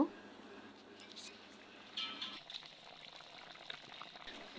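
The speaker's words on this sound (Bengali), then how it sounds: "দশ মিনিট মতো চুলার জালটা বাড়িয়ে একটু জাল দিয়ে নিব" Raw banana curry simmers in a pot over a clay stove, giving a steady close hiss with soft bubbling that grows slightly busier partway through.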